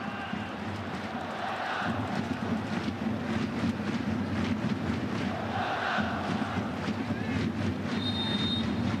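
A large football stadium crowd at the AFC Champions League final, Guangzhou Evergrande against FC Seoul, roars in a continuous dense swell with surges of cheering, and a commentator's voice can be heard over it.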